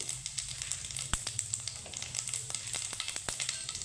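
Black mustard seeds and whole cumin sizzle in hot oil in a pan, a steady quiet frying hiss broken by sharp scattered pops and crackles, close and alone without talk.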